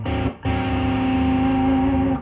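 Distorted electric guitar notes on strings 4 and 3 are struck twice: a short first hit, a brief gap, then a second hit that rings on steadily, loud and close, with no voice.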